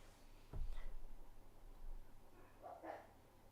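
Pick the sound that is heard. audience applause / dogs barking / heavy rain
dogs barking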